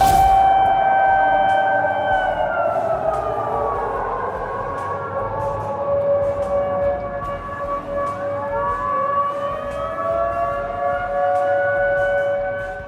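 An air raid siren wails steadily, its tone slowly rising and falling, with a second siren overlapping in the distance; no voices.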